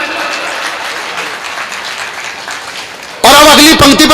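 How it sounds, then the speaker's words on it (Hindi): A poetry gathering audience bursts into loud applause near the end, a sudden dense wash of clapping following a stretch of crowd murmur. "और तालियां तो अब चाहिए।"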